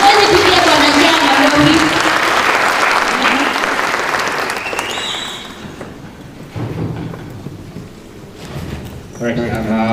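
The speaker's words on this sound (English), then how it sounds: "Let us clap for him." An audience at a student economics debate applauds loudly for several seconds. The clapping fades after about five seconds into quieter room noise, and brief voices follow.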